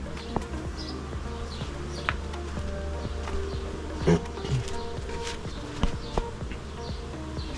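Honey bees buzzing around a beehive, a steady close droning hum of many insects with brief louder passes as single bees fly near, plus faint bird chirps in the background.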